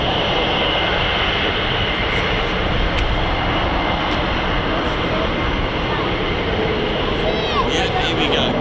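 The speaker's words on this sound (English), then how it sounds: "this sounds like an F-35" An F-35 Lightning jet flying over RAF Lakenheath produces a loud, continuous, dense roar that stays powerful throughout, with a hiss on top and a deep rumble underneath.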